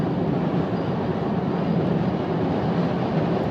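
Inside a car cruising after an overtake, its V6 engine shifted into fourth gear gives a steady, smooth low drone mixed with road rumble, continuous and even without voices.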